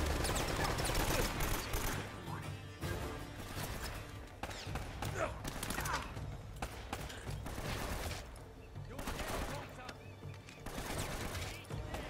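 A mounted machine gun fires in Uncharted: Drake's Fortune, with loud sustained bursts of rattling shots and crashing impacts filling the scene and a game soundtrack running underneath.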